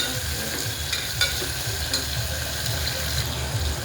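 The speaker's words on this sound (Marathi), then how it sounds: "एकदा ढवळून घेऊया." Tomato and curry leaves are stirred in hot oil for masala rice, a constant close sizzle and crackle with a few light spatula taps against the pan, no voices.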